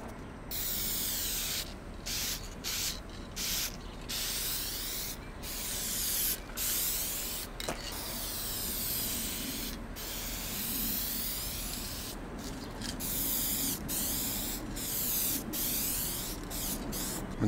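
A spray can applies adhesion promoter to a turbo M50 engine part for an E30 before ceramic coating: a steady close hiss that runs nearly continuously, broken by many short pauses as the nozzle is released and pressed again.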